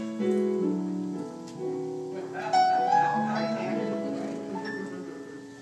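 Electronic keyboard played in a church service, with melodic sustained chords and notes that swell and shift, moderately loud and close.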